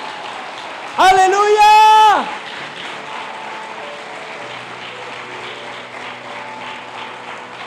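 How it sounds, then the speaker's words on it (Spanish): Church congregation applauding during a worship service, a loud shouted exclamation rising over the start before a steady wash of clapping continues to the end. "Denle un fuerte aplauso al Señor"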